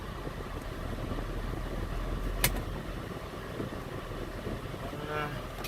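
A used car at a Manheim auto auction driving and shifting gears, a steady low engine and road rumble heard from inside, moderately loud with a brief sharp click partway through.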